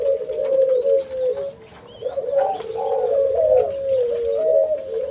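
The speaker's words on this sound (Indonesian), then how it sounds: "Ini sengaja lagi dipasangkan antara tekukur dengan burung puter putih." A male spotted dove and a female white dove coo nearby in steady, low, wavering phrases that run nearly continuously, with faint chirps in the background and no talking.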